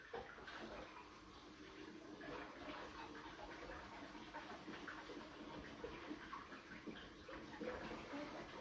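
About 200 g of rice rinsed under cold running water before cooking: a steady, even rush of water goes on throughout at moderate loudness, with no talking.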